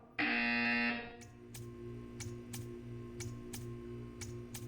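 A loud electronic buzzer in the Portal 2 video game, one sustained harsh tone lasting about a second, followed by a steady rhythmic ticking over a low humming background.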